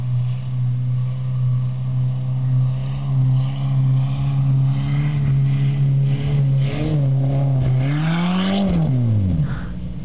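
A field car with a steady, droning engine climbs a hill, loud and close throughout, with the pitch rising and falling as it revs near the end.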